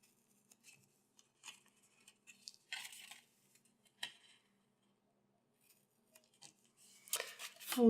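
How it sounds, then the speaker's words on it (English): Craft scissors snip through cardstock up to a score line while an ornate candy bar box tag is being made. The cuts come as a few short, quiet, crisp snips with pauses between them, and a louder rustle of paper comes at the end. "I'm going to use my craft scissors, and I'm just going to cut them off."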